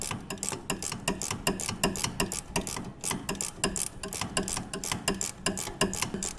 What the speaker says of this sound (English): we're just going to go in there with a flexi ratchet and take it loose